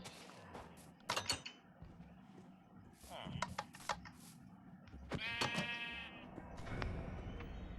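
A goat in the Minecraft video game gives a couple of short, nasal bleats amid soft in-game clicks and shuffling, with a voice talking in the background.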